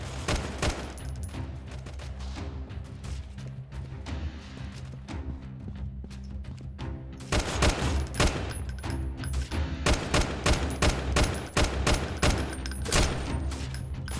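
Assault rifle gunfire in the shooter game Freeman Guerrilla Warfare, bursts of rapid shots crackling over a busy battle background, growing denser and louder in the second half, with no talk.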